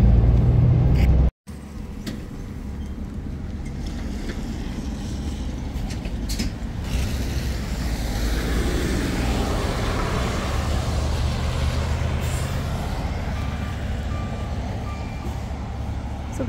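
Number 3 city bus pulls away from a stop in snowy weather near an airport, its engine a low rumble that swells and then holds steady, while reversing-style beeps sound nearby and there is no talk.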